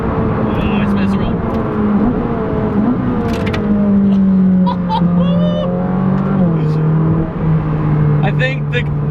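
Ferrari 458 Speciale V8 engine revving and accelerating with wheel spin, a loud close drone that climbs and settles in pitch, with someone talking over it.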